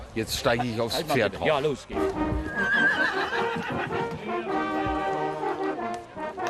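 A gelding neighs loudly and close, a long shrill whinny with rising and falling pitch, followed by snorting and low rumbling.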